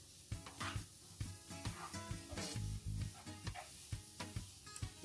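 Lemon zest and garlic cooking in a pan for cauliflower rice, with a steady sizzle broken by repeated scraping stirs and light utensil knocks, close and fairly quiet, no talking.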